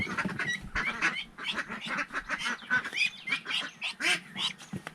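Domestic ducks (itik) quack repeatedly in a busy, overlapping flock chorus at moderate distance, with many calls throughout.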